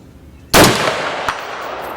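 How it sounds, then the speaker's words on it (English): A single loud rifle shot from a 55 grain surplus round, sharp and close, followed a moment later by a fainter metallic ring as it strikes a steel gong downrange. "Let me try shooting lower."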